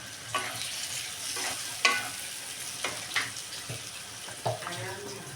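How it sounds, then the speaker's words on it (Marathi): Sliced ivy gourd sautéed in a pan without water, with salt, giving a soft steady sizzle broken by several scraping stirs of a spatula at irregular intervals, fairly quiet and close with no talking. "परत परतून घेऊया। तोंडली घालून घेऊया"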